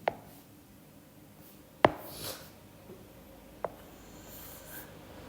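Writing on a board while working a crystal packing fraction problem, with a few sharp taps and short scratchy strokes spaced seconds apart, close and quiet in a still room.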